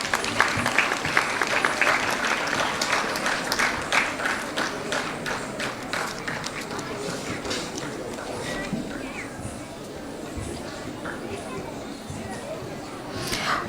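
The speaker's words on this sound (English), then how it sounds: "Please give her a big round of applause." Sustained applause from a crowd at a school annual day, dense clapping that stays steady throughout, with some voices mixed in.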